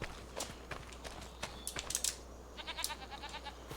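Goats in Farming Simulator 25 give short, faint bleats mixed with light clicking and tapping, all at low level with no talk.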